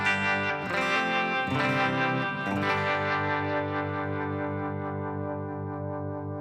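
An electric guitar runs through an amp plugin with a noise gate: a few distorted strummed chords, then one long ringing chord that slowly fades, close and loud with no talk.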